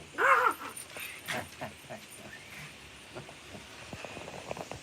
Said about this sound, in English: He's barking at the neighbor across the next street.